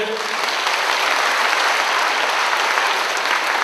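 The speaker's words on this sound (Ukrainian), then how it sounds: "ваші аплодисменти" A dense, steady round of applause from an audience at a tournament ceremony, loud and continuous without a break.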